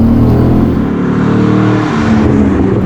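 The LS V8 engine of a 2007 Cadillac CTS-V roars loudly and steadily, its deep rumble shifting in pitch as it accelerates.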